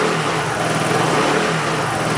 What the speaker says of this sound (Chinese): 然后你去做一个加油门的动作的话